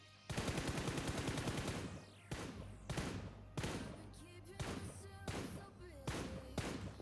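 Rapid bursts of gunfire from a battle royale shooter video game, a sustained automatic volley followed by several separate loud shots spaced through the clip, with no talk over it.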